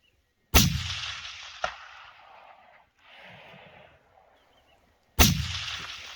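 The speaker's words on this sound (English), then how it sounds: "it felt like a good shot from behind the trigger" Two sharp, loud hunting rifle shots crack out in the Aorangi Ranges of New Zealand, one near the start and one near the end, each trailing off into a fading echo with quiet rustling between.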